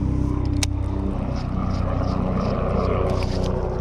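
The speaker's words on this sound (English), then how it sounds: "right as the helicopters fly overhead" Helicopters pass overhead while someone fishes on the water at dusk, producing a loud, steady engine and rotor drone that fills the whole stretch with a constant low hum.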